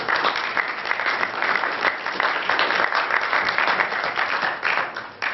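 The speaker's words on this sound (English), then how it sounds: "Give yourselves a round of applause." Sustained applause from an audience at a law school symposium on water, dense steady clapping filling the hall from start to finish with no one speaking over it.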